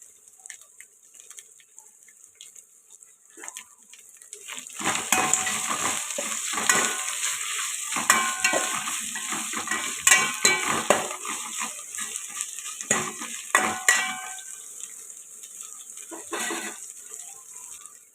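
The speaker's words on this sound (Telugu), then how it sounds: "ఇలా ఫ్రై అవుతాయి కదండి" Ginger garlic paste frying in oil with mint and coriander for prawn pulao: loud close sizzling and repeated stirring scrapes against the pan build up after a quiet start, with no talk.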